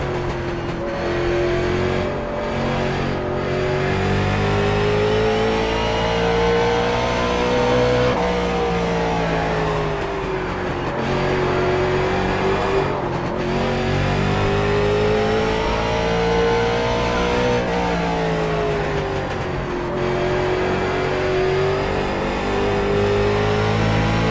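Stock race cars in the All Pro Blizzard Series Flurry 100 race, engines droning and rising and falling in pitch as they pass, with a continuous loud roar that swells in waves and no talk.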